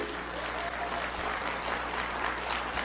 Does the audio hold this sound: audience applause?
yes